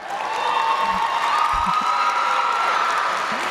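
Sustained audience applause fills an eighth grade promotion ceremony, a dense, steady wash of clapping from a large crowd with a few scattered cheers, continuing evenly throughout.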